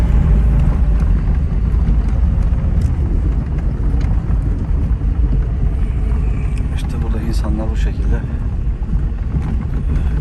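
A Tofaş car on Russian roads shifts into third gear, its steady engine drone mixed with wind and road rumble throughout while someone talks over it.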